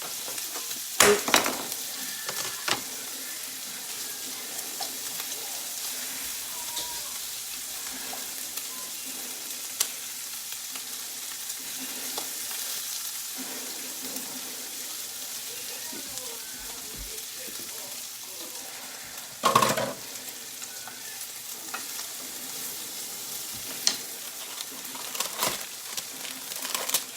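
Chopped shallot sizzles in a pan for a carbonara, a soft, steady frying hiss that carries on throughout, with a couple of louder clunks from handling the pan near the start and middle.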